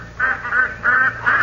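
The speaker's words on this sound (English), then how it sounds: "Ducks, all right, if I ever heard one" Ducks quacking on a morning duck hunt in an old radio comedy, four evenly spaced nasal calls in a slow, regular rhythm, fairly close and alone without talk.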